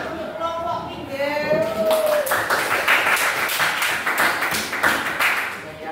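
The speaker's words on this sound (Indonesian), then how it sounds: "tepuk tangan untuk kelompok 3" Applause for a student group in a classroom, a burst of individual claps with a rhythmic, somewhat sparse pattern following a trailing voice, close and moderately loud.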